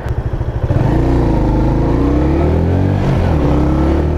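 A Mash Seventy Five 125cc motorcycle engine chugs, then revs up and holds a steady, loud droning pitch as it accelerates, close to the listener.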